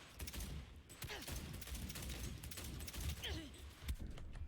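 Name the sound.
gunfire from a video game, Cyberpunk 2077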